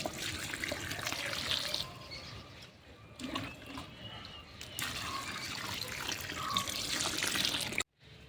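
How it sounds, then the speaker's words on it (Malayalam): Water pours onto potting mix for a cucumber plant, trickling and splashing in steady runs with brief pauses, close and fairly loud, then cuts off abruptly near the end. "ഇനി ഇതിലോട്ട് നമുക്ക് വെള്ളം ഒഴിച്ചു കൊടുക്കാം."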